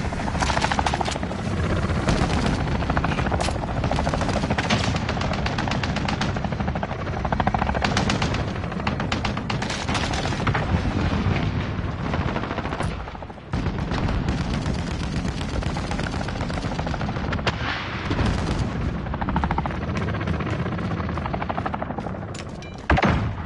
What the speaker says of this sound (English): Friendly chopper gunner inbound.